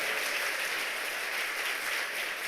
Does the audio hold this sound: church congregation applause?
yes